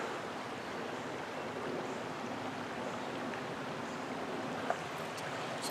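Beaver Creek flowing outdoors, a steady, even rush of water that fills the whole stretch at a moderate distance, with no talking.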